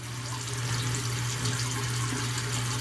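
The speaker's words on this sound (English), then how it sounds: "So let's go ahead and wash our hands. We're going to use some good soap." Running water pours steadily from a tap as hands are washed with soap, giving a continuous close splashing hiss over a low hum, with no talking.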